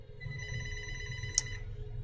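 An electronic telephone ringer trills in a bright, steady repeating tone, close and clear, with a sharp click partway through.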